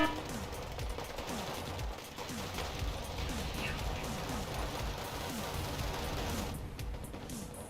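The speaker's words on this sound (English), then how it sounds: "That's some artillery coming in on us" Artillery fire comes in during a Wargame battle, a dense, continuous barrage of rapid bursts and crackling impacts that rolls on without pause and swells slightly near the end.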